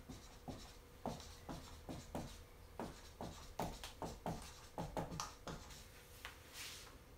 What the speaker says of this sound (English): Let me write this down real quick.